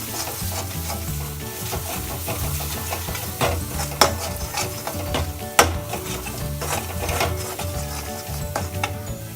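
Paneer masala fries in a pan, sizzling loudly up close while a spoon or spatula stirs and scrapes it, with irregular clacks and two sharper knocks against the pan.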